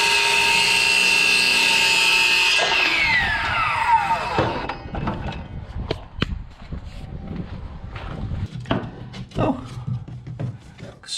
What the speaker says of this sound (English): So I'm going to go ahead and cut a piece of this PVC